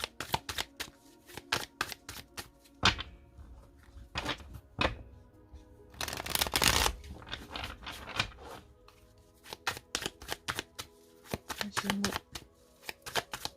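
Oracle cards being shuffled and cut by hand, with repeated riffling bursts and one longer loud shuffle, close, separated by pauses with someone talking in French.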